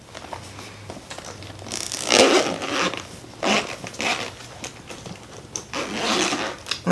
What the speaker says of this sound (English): I'm going to zip this up.